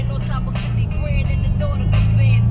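A car idles and creeps through slow traffic in Santa Mesa, a steady low engine rumble with surrounding road noise, heard from inside the cabin.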